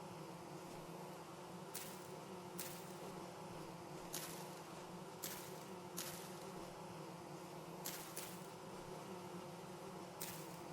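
Bees in the video game Vintage Story buzz in a steady, low drone, joined by louder bursts of noise that come and go at irregular intervals, all fairly faint, with no talking.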